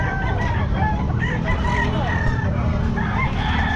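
Chickens and a rooster at a busy pet market: a dense, loud mix of crowing and clucking fowl over a constant crowd hubbub, with overlapping calls running throughout.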